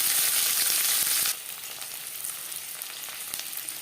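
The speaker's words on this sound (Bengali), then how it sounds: "2 চামচ রিফাইন্ড অয়েল গরম করে নিয়েছি। দিয়ে দিলাম পেঁয়াজ।" Chopped onion is dropped into two spoons of hot refined oil, a loud bright sizzle that quickly settles into a quieter steady frying crackle, close up.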